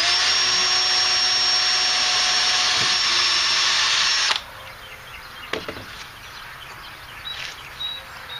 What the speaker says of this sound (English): Just drilling a small hole first.